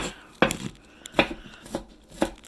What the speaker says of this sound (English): This is not how I chop onions typically.